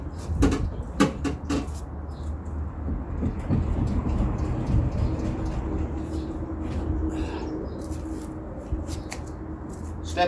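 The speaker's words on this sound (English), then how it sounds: "Step 1, remove the door." Full door from a Jeep YJ lifted off its hinges, making several sharp metallic clanks and knocks early on, followed by a steady rumbling scrape. Heard close up.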